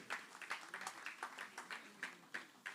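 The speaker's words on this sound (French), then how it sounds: "Continuez d'applaudir, s'il vous plaît." Faint, sparse applause from a pageant audience for the candidates, a handful of distinct claps pulsing in an irregular rhythm, soft and somewhat distant throughout.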